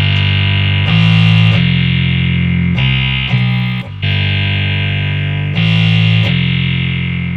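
Distorted synthesizer bass samples triggered from electronic drum sample pads, playing a loud, buzzy bass line of held notes that change pitch every second or so, alone.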